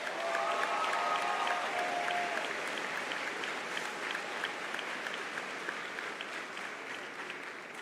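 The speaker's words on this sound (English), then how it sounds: "Please give all the students a round of applause." Graduation-ceremony audience applauding the graduating students, a sustained dense wash of clapping through a large hall, steady and moderately loud and then slowly tapering.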